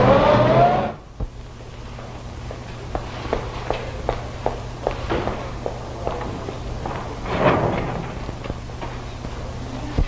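Car from a 1935 crime drama moving along with a low steady engine hum and scattered clicks and knocks, a louder burst at the start and a swell near the end.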